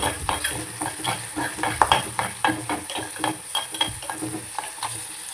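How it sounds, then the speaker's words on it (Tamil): Black pepper and cumin dry roasting in a pan for a fish curry, heard as a run of close, rhythmic stirring scrapes and light rattles over a faint sizzle, with a steady high hiss behind. "நம்ம பவுட்ரு பண்ண மிளகு ஜீரகம், நல்லா வறுக்கும்."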